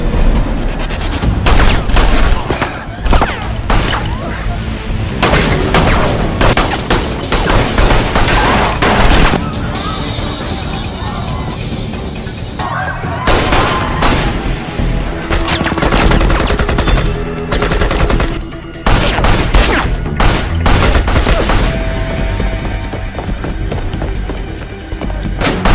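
A hotel shootout in an action film: loud, dense bursts of rapid automatic gunfire and single shots rattle almost nonstop, with heavy booms and brief lulls between volleys.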